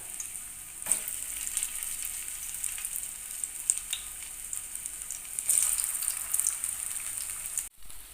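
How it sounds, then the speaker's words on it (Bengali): Chowmein balls deep-frying in mustard oil over a medium flame, a steady bubbling sizzle with a few sharper spits and pops, close and continuous with no voices. "এক একটা চাউমিন বলস দিয়ে দিলাম ফ্রাই করবার জন্য মিডিয়াম ফ্লেমে ভাজতে হবে"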